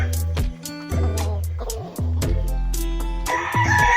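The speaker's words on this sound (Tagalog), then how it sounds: "Gwapong manok." A loud seven-month-old gamecock rooster crows close by, several long rising calls in quick succession, with other fowl clucking underneath.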